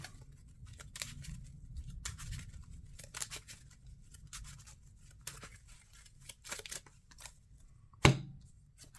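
Marvel Champions playing cards being shuffled: a run of soft, papery riffling bursts and ruffles over several seconds, close and fairly quiet, ending in one sharper tap.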